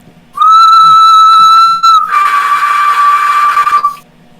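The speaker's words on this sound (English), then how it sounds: "you start to hear a low whistling noise in the distance" A steady, loud whistling tone holds for roughly three and a half seconds, turning breathier and hissier partway through before cutting off, with no voices.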